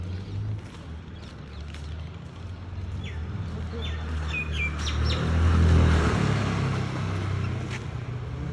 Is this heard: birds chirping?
yes